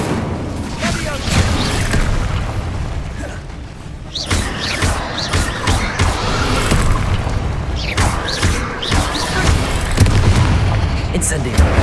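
Incendio fire spells cast again and again in the PS5 game Hogwarts Legacy, heard as repeated booming bursts and thuds over dense, continuous battle noise that stays loud for the whole stretch.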